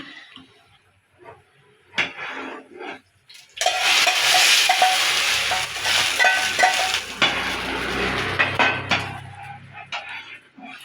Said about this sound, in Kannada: ಇದಕ್ಕೆ ಒಗ್ಗರಣೆ ಕೊಡ್ತೀನಿ